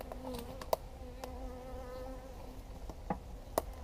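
Honey bees fanning at a hive as a queen is reintroduced, a steady soft buzzing drone with occasional louder individual wingbeats passing close, fairly faint overall.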